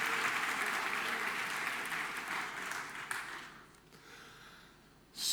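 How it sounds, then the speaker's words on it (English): Audience applause at the Shift developer conference fills a hall in a steady, dense wash of clapping. It thins out toward the end, then a brief louder burst comes at the close. "Please, one round of applause for the technology"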